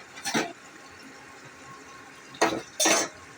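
A lid goes onto a pot of potatoes boiling for biryani: a soft clank near the start, then two sharper metallic knocks close together at the end, with quiet room noise between.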